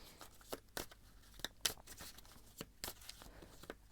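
Tarot cards are shuffled in soft, uneven flicks and riffles, a quiet run of crisp snaps and rustles close by with no talking.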